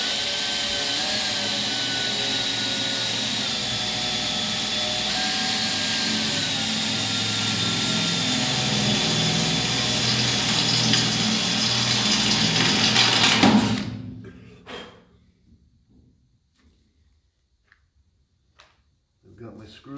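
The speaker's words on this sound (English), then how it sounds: "This is the point where you're drilling through finished product and there's no going back." A power drill bores through the finished body of a Ford car with a loud, continuous whirring drone for about thirteen seconds. It then cuts off abruptly, leaving near silence with a few faint knocks.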